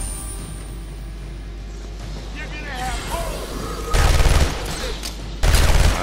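Enemy guns firing in Batman Arkham Asylum, two loud bursts of rapid shots over a steady low game rumble, with a voice talking earlier in the clip.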